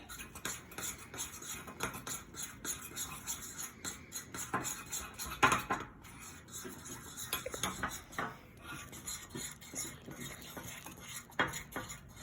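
Edible slime ingredients stirred in a bowl with a utensil, a quiet run of irregular clinks, scrapes and taps against the bowl close by, with one sharper clank partway through.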